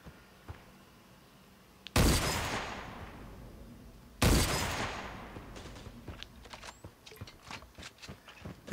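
Gunfire in the mobile battle-royale game Creative Destruction: two loud, sharp blasts about two seconds apart, each ringing out in a long decaying tail, then a patter of smaller distant shots and clicks.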